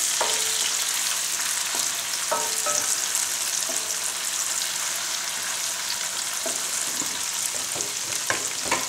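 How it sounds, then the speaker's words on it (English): Onions and asparagus fry in melted butter in a pan with a loud continuous sizzle, broken by occasional scraping stirs, close up and without talk. "the butter melted, so add your onions, very little bit of onion, and asparagus"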